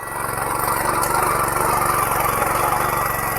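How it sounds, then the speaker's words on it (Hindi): Mini tractor ploughing a hillside field in the mountains: a steady, close engine drone with a rapid low chugging pulse, loud and unbroken throughout. "जो मिनी ट्रैक्टर है हमारे पहाड़ों में चला हुआ है, तो उसकी जुताई कैसी होती है"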